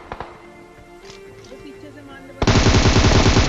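Rapid automatic gunfire erupts in a shooter video game after a quieter stretch of faint sounds and a couple of soft shots, then a loud sustained burst of rattling rounds fills the end.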